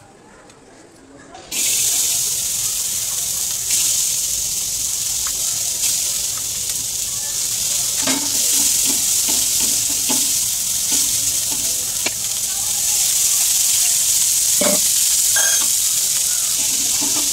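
Onions frying in a pan with browned whole spices and ginger-garlic paste give a steady loud sizzle that starts abruptly, with occasional spatula scrapes and taps layered over it.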